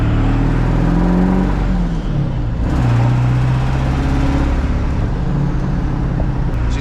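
An OBS Ford Powerstroke diesel with an oil-fired injection system idles rough, a loud, close, continuous low rumble with uneven throb and slight shifts in pitch, no voices over it.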